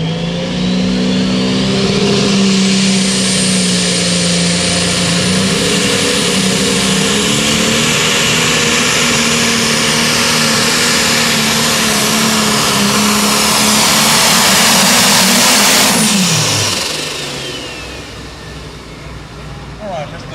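A pulling tractor called the Tinker Toy roars at full power through a tractor pull run, a loud sustained engine howl with whining pitch that climbs, holds, then drops off abruptly near the end.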